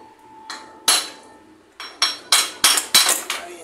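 Hammer blows knocking apart a worn-out Pulsar 150 cc four-stroke motorcycle engine, a series of about seven sharp metallic clanks with ringing decay, spaced unevenly and growing more frequent toward the end, close and loud with no talking.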